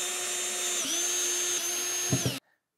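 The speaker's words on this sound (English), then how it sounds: "After pre-drilling some mounting holes for the two hooks, I'm now ready to install the fasteners." A power drill drives fasteners to mount two hooks on a coat rack, its steady high motor whine running with pitch dips and two short bursts of load near the end before it abruptly stops.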